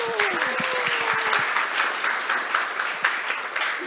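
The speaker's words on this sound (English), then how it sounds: "A round of applause for the incredible organizers" An audience at a student competition event gives sustained, even applause for the organizers, dense clapping holding steady throughout, with a brief voice at the start.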